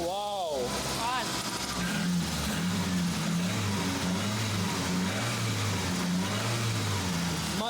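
A Suzuki Samurai engine with a newly replaced fuel pressure regulator revs up and settles in repeated throttle blips, a steady close mechanical drone rising and falling, with people talking over it.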